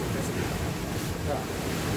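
Heavy ocean waves pound a rocky Korean shoreline near Songjeong, a steady broadband roar of surf mixed with gusty wind buffeting the microphone throughout.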